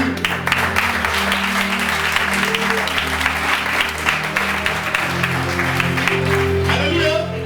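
A church congregation applauds steadily and loudly, dense clapping that fills the room while a voice carries over it.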